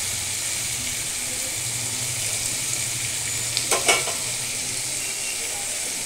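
Fried paneer is added to vegetables and capsicum sizzling in a pan, giving a steady frying hiss with a short clatter of pieces dropping in partway through.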